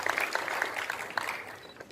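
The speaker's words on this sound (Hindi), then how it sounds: "इनके लिए जोरदार तालियां।" Applause for a young volunteers' group honoured at a community ceremony in Aurangabad, a small crowd giving scattered, moderately loud claps that blend into a diffuse wash for under two seconds.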